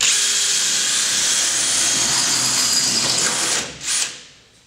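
A power drill grinds steadily through spot welds on a car body during restoration, a loud continuous whine that runs unbroken for about three and a half seconds, dips, briefly surges again, then winds down to silence.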